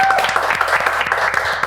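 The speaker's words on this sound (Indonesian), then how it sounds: "Tepuk tangan dong, Firda Raja," Audience applause during an Indonesian talk show, a dense patter of clapping over a low steady background, with a voice faintly audible underneath.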